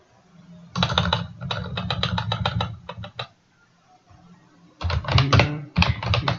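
Someone types a full name on a computer keyboard during an operating system setup, clicking out two close bursts of rapid keystrokes separated by a brief quiet gap, with no voices.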